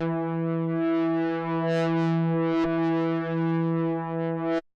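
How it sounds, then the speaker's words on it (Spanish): Surge XT synthesizer playing a sine FM wavetable tone: one sustained, bright, harmonically rich note held steadily for several seconds, with a brief click partway through and an abrupt cutoff at the end. "voy a volverle a poner pegar, ahí está, sinusoidal FM"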